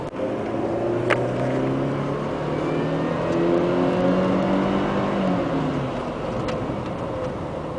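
A 2003 Mercedes C230's engine pulls steadily up through the revs, its rising drone climbing as the car gathers speed, heard from inside.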